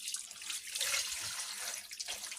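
Cold marinade poured from a container over mackerel being prepared for hot smoking, a steady close liquid splash and trickle running for a couple of seconds without any talk.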